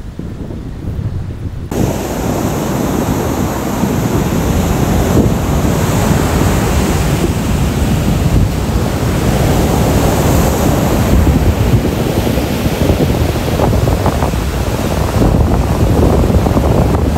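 High monsoon waves crash continuously on Pantai Geting beach, a dense loud roar of surf mixed with gusting wind buffeting the microphone, with no pause.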